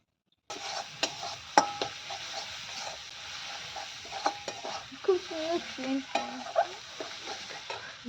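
Halved peanuts frying with spices in a kadai, a steady sizzle under frequent scraping and clinking of a metal spatula against the pan, close and busy, with a few vocal murmurs mixed in.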